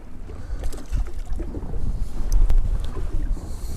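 Strong wind buffets the microphone on a fishing boat, a loud, gusty low rumble swelling and easing with faint knocks and splashes beneath it.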